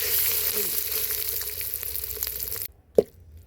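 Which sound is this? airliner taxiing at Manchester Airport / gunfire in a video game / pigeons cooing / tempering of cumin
tempering of cumin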